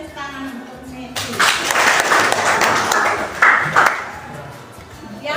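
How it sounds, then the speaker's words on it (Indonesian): Students in a classroom clap for a classmate during a teaching assessment lesson; a voice speaks briefly, then a burst of close, lively hand clapping lasts about three seconds before dying away. "Jadi kan tepuk tangan untuk Meti."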